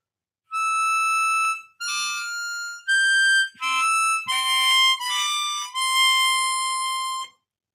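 Harmonica exercise on holes nine and eight, played as a series of about seven sustained blown and drawn notes with brief gaps between them, bright and close, with no talking over it.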